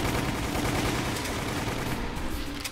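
Sustained machine gun fire in Resident Evil: The Umbrella Chronicles, a dense, rapid stream of loud shots that hammers on continuously without a break.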